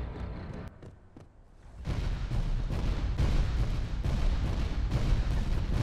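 Sniper rifle fire in Halo 2 Anniversary: a few sharp reports early on, then a loud, dense stretch of booming battle noise with heavy low-end rumble that keeps going to the end.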